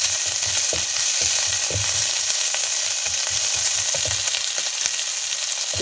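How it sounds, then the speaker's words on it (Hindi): Ginger paste frying in a spoonful of oil, a dense, steady hiss and crackle with intermittent soft scraping thumps of stirring, close and continuous throughout. "बस 1 चम्मच में अदरक का पेस्ट, थोड़ा थोड़ा इसको भूनना।"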